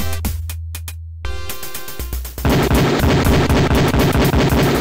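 Retro video game Police Quest IV: a few widely spaced synthesized Beretta pistol reports at an LAPD shooting range, then a rapid, buzzy stream of low-fidelity shots filling the rest, harsh and loud with no speech.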